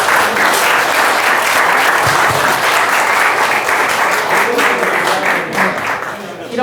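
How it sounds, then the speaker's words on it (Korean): Audience applause at an art fair talk show, a sustained, dense burst of clapping from a full crowd that stays loud and steady throughout before easing slightly at the end. "박수 주세요."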